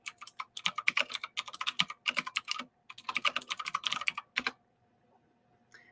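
Fast, steady typing on a computer keyboard, with dense bursts of clicking keys broken by short pauses. It is close and clear with no voices, and it stops near the end.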